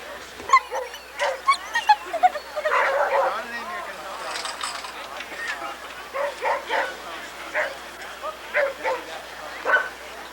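Several sled dogs at the 1993 Can-Am Crown race bark and yip in quick, irregular bursts, fairly close, with some whimpering between barks and a voice talking intermittently.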